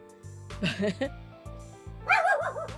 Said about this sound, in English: That's a bark when she wants to fight somebody.